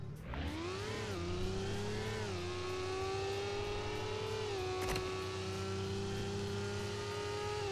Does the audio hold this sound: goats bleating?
no